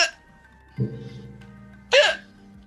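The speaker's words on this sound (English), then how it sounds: "Whew, hiccups." A woman hiccups three times, each sharp, close and loud, with a short vocal catch, spaced unevenly over a couple of seconds against a quiet room hum.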